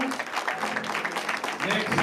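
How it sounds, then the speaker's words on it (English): Audience applause for a panel at a county sheriff candidate forum, dense steady clapping throughout a brief stretch, moderately close, with voices faintly mixed in. "please round of applause for our panel"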